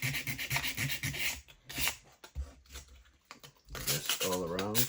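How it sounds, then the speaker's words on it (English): A wooden UGears tracked off-road vehicle part is rubbed with sandpaper in quiet, close, irregular scraping strokes, with a short break in the middle and talk at the end. "need to put a little bit sanding in here"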